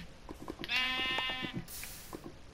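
A Minecraft sheep gives one clear, drawn-out bleat, close and fairly loud, with a few faint clicks and game sounds around it.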